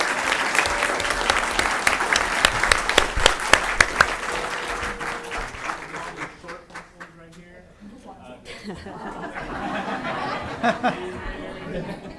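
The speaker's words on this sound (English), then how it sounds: "another round of applause for all of our campuses" A room full of people applauds school campuses at a district board meeting, a dense burst of clapping that fades after about six seconds into quieter murmuring and nearby conversation.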